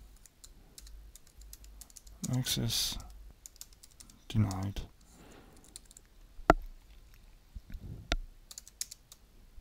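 Someone types PHP code on a computer keyboard in sparse clusters of close clicks and taps, with a voice speaking briefly between them.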